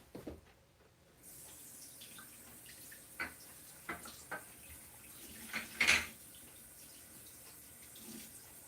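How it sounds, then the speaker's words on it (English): Tap water runs over rubber stamps in a sink after cleaning with StazOn cleaner, a steady low rush with several louder splashes and knocks as they are rinsed nearby. "And then I'm going to rinse these under the sink quick."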